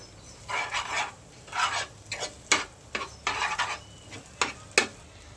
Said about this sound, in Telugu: లైట్గా ఉప్పు వేసుకొని కలుపుకోవాలి కొంచెం